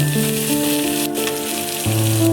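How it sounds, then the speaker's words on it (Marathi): Onions fry in hot oil in a close, steady sizzle, with a bright crackling hiss throughout and no talk. "आता कांद्याला आपण लालसर होईपर्यंत तळसून घेऊया."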